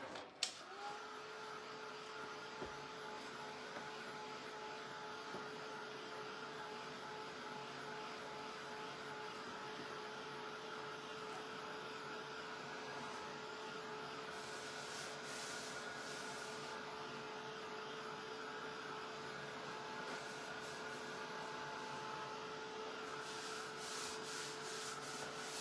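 A hair dryer or heat gun blows steadily and evenly over a freshly painted wood project finished with dark wax, making a continuous loud whooshing hum with a faint tonal whine, running unbroken throughout with no speech.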